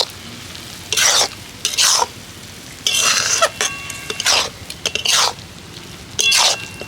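Semolina being stirred in a pan for sweet motichur laddu, heard as a series of separate scraping strokes at an uneven rhythm, each a short rasping burst with quiet pauses between, close and fairly loud, with no talking.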